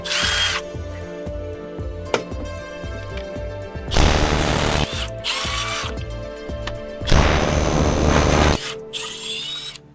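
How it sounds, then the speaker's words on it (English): Impact wrench with chrome sockets hammering on big bolts during an S14 limited slip diff and rear sway bar install, several loud rattling bursts of a few seconds each, separated by ratchet clicks and pauses. "Yes, I'm using chrome sockets on the impact."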